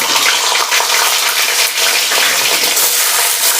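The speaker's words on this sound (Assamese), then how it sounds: "ইয়াতে এতিয়া মই পনীৰখিনি ভাজি ল'ম।" Paneer frying in hot mustard oil in a kadai, a loud dense hiss and sizzle with crackling spatter, steady and close throughout with no talking.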